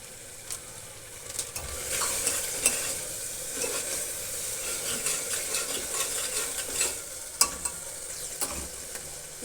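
Spiced masala for a dhaba-style dish sautés in a pan with turmeric and garam masala powder, a soft continuous sizzle under scattered scraping stirs and light utensil taps against the pan, with no one speaking.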